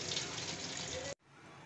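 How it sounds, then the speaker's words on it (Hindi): Cold water gushes steadily from a tap over fresh green peas, then cuts off abruptly near the end, leaving only faint background. "ठंडे पानी से थोड़ा सा मैं इसमें ठंडा पानी डालूँगी"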